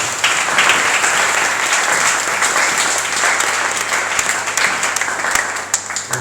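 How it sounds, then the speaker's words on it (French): A church congregation at a French-speaking Wednesday evening worship service claps for Jesus, dense sustained applause filling the room for several seconds, steady and enthusiastic with scattered sharper claps near the end. "Vous pouvez encore acclamer pour la gloire de Jésus."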